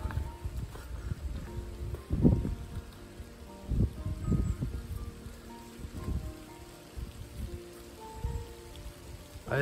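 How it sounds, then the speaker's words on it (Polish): Light rain falls on a muddy, slippery mountain slope trail near Brenna, a soft, faint patter with a few scattered nearby rustles and thuds. "A jeszcze do tego pada."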